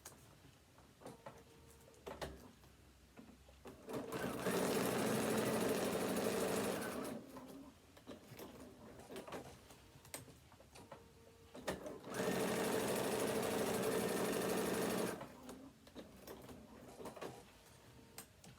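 Sewing machine stitching hook tape onto a phone stand, running in two steady bursts of about three seconds each, with quieter handling sounds around and between them.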